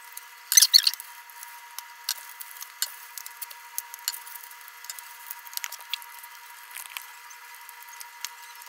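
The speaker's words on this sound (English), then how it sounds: "now we're gonna peel in the garlic and finally chop" Garlic cloves peeled by hand, faint papery crackles and small squeaky rubbing taps scattered through the stretch, with one louder crinkling burst early on, close and quiet with no talk.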